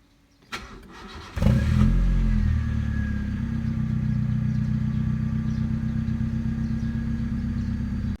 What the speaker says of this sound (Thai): เดี๋ยวทำการสตาร์ทรถดูนะครับ